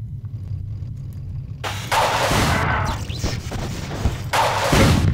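Missile launcher fire and explosions in the Marathon 2 Durandal video game, with a steady low rumble giving way to loud, sustained blasts and crashes that swell twice before settling into a heavy roar.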